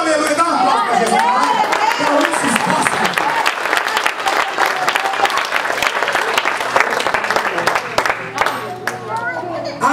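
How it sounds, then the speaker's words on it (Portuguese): A church congregation applauds loudly and steadily at a Sunday mission service, dense clapping mixed with cheers and voices across the whole stretch, slightly fading near the end. "Dá uma aplauso para Jesus."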